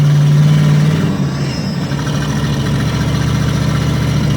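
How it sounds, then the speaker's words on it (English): An RV engine labors in first gear, struggling to build speed: a loud, steady low drone with a sustained hum, close and continuous throughout with no voices. "Going in the first gear did not help. This thing's having a hard time picking up any speed."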